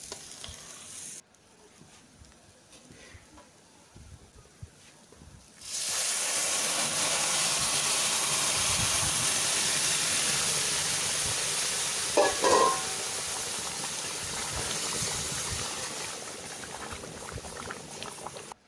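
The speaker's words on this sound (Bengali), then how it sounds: "আমি এখন এখানে ফুটন্ত গরম পানি দিয়ে দেব।" Boiling hot water poured into a pan of fried rice for mutton biryani, erupting into a loud, sustained hiss and bubbling sizzle after a quieter start, with a brief clink of the utensil midway.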